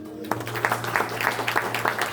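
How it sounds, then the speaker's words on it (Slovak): A congregation at an Apostolic church service in Belgium claps together in a steady, rhythmic beat that starts abruptly and keeps an even pace, filling the room at moderate loudness. "Môžeme podať Bohu potlesk za to."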